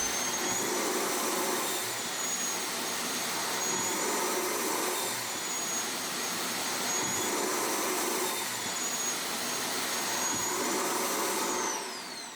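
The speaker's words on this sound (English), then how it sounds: "this clean station will actually pull it out of the canister" A Samsung Jet 75 clean station empties the vacuum canister with a loud, steady jet-like roar of suction that runs unbroken for about twelve seconds before tapering off at the end.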